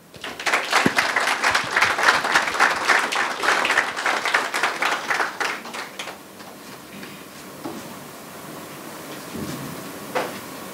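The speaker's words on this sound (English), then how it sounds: "Ladies and gentlemen, please put your hands together and give a round of applause" An audience at an agribusiness bootcamp launch event gives a loud round of applause for about six seconds of dense, crisp clapping, which then thins out into scattered claps and a quieter room.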